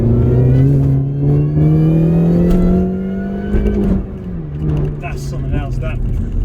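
Mini Cooper S engine pulling hard under heavy throttle on a road test drive, a loud rising drone with a gear change midway, while a person talks over it inside the cabin.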